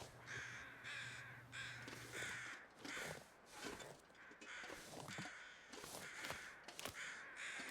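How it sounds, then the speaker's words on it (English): Loud, repeated caws from a group of crows in The Long Dark survival game, ragged calls coming in bursts and overlapping, alone without speech. "Here's so many crows. They sound like seagulls."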